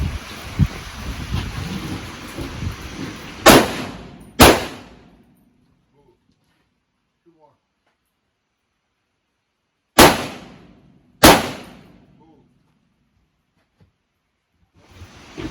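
Four sharp gunshots at a low-light shooting course, two close together near the start and two more after a long silent pause, loud and echoing over earlier rustling background noise.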